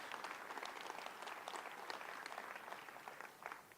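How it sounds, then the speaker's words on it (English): Audience applause at a public market event after a fundraising announcement, a steady dense wash of many hands clapping that fills the room without a break, with no speech over it. "Yes, that's worth applauding."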